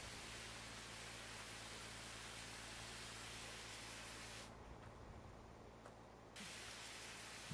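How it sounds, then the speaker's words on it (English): A pressure washer sprays a farm vehicle in Farming Simulator 22, giving a steady broad hiss that runs throughout, quiet and even, briefly cutting out near the end. "We'll do a nice little spritz on this just to give it a little extra shine"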